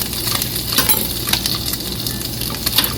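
Bacon fries in a pan for a breakfast sandwich, giving a loud, close, continuous sizzle and crackle with occasional light metallic clinks of utensils against the pan.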